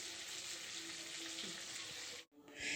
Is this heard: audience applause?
no